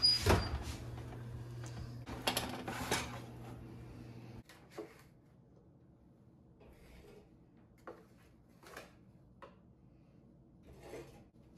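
A preheated oven door opening and closing as a tray of dumplings goes in: a wooden-sounding clunk and rub with a low hum early on, then several softer knocks and clicks, fairly close.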